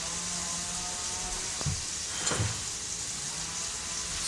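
Onions sizzle in a hot pan with a steady, even hiss throughout and a couple of faint clicks partway through.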